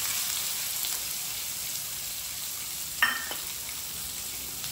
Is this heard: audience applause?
no